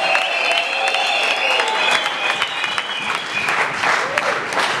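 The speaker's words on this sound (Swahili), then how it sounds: "Piga kelele na vigelegele na makofi kwa ajili ya waziri." A crowd at a church gathering in Dodoma applauds loudly for a government minister, with continuous dense clapping and high trilling ululation running throughout.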